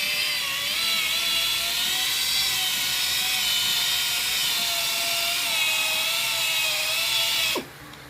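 A headlight lens being polished with wet 3000-grit sandpaper under a steady, loud whining machine drone with harmonic tones, running continuously for several seconds before cutting off abruptly near the end.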